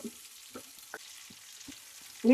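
Tomato and onion frying in a pan while a spoon stirs them, giving short scraping strokes over a low sizzle, with a louder burst of frying at the end and no voices.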